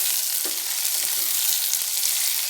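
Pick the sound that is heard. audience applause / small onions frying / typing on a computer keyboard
small onions frying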